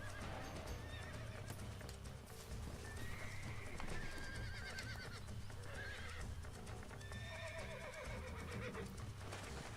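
In the Red Dead Redemption video game, a horse being broken neighs and whinnies repeatedly while hooves clip-clop and scuffle continuously, loud and close amid a busy stream of game sound.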